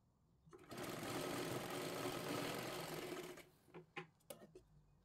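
A sewing machine stitching a seam on a blouse runs in one steady close whirring burst of about three seconds, then stops, followed by a few soft handling clicks.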